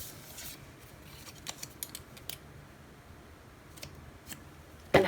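Scissors snip through an Avery sticker sheet in a quiet room, a few quick, faint crisp cuts spread across the stretch, then a louder clack at the very end.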